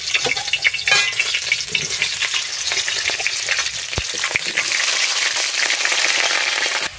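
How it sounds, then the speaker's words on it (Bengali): Potatoes dropped into hot oil in a pan fry with a loud, dense, crackling sizzle that holds steady and close throughout, with a few sharp pops and no voices. "তেলটা গরম হয়ে গেছে, এবার আমি আলুটা ছাড়ি"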